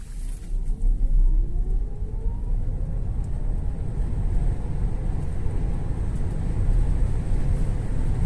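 An MG Marvel R Luxury electric SUV accelerates at full throttle, a steady loud road and wind roar from inside the cabin with a faint electric motor whine rising in pitch.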